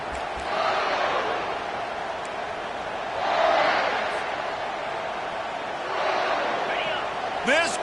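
Stadium crowd at a football game roars steadily throughout, swelling loudly in several surges as fans push for a fourth-down stop, with a broadcast commentator's voice mixed in over the noise.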